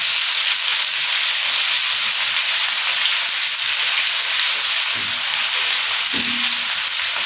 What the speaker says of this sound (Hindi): अभी हम इसमें लहसुन अदरक का पेस्ट ऐड कर देते हैं। इसको भी मामूली बीच में फ्राई करेंगे।